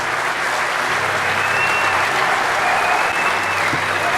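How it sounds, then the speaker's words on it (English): An audience at the DEF CON 20 hacker convention breaks into a brief burst of loud, continuous clapping, a dense crowd applause that fills the room without fading. "Let's hear a round of applause."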